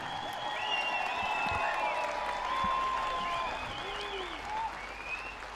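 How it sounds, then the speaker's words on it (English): A large crowd applauds steadily at an Indigenous gathering during Pope Francis's visit to Canada, with bright whistles, whoops and warbling calls riding over the clapping throughout. "let's give everybody a round of applause"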